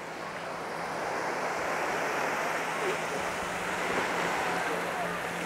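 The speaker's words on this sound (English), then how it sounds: "I'm sure you're going to agree this is just a fantastic beach" Steady surf washes in on Surin Beach, a continuous broad roar of breaking waves with wind rushing across the microphone, fairly close and unbroken throughout.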